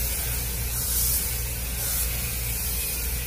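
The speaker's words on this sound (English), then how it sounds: "And now, one last dash of hairspray." Hairspray is sprayed onto hair in one continuous close aerosol hiss lasting a few seconds, steady and fairly loud, with no voices.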